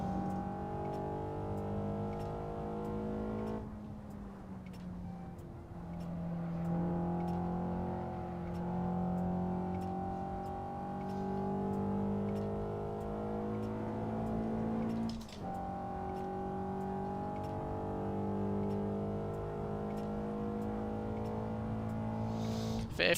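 In a sim racing game, a car engine hums continuously, sliding up and down in pitch as it revs and shifts, with a few sharp breaks in the tone.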